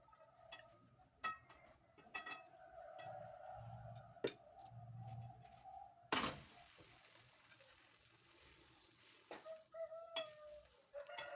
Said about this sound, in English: At this point of frying, the flame is on medium.